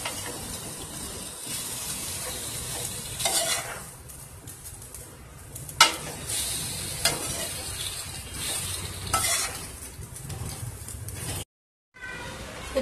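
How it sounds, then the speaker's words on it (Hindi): Boiled macaroni stirred into masala in a pan: a sizzling, wet hiss broken by spatula scrapes and clacks, dropping to a brief silence near the end with no speech. "अब हम मिक्स कर लेंगे।"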